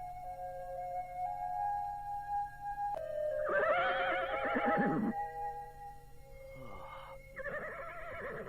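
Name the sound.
horse neighing in a stable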